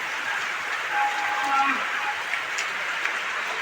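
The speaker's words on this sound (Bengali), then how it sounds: "একদম মৌসুম ধারে বৃষ্টি শুরু হয়ে গেছে" Heavy monsoon rain pours onto a rooftop in a dense, even roar of drops, steady and close throughout the few seconds.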